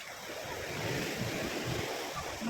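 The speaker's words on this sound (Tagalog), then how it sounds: "Ang lalaki ng alon, oh." Large sea waves rolling in along the Dumaguete boulevard seafront, a steady wash of surf with wind buffeting the microphone, moderately faint and continuous with no clear break.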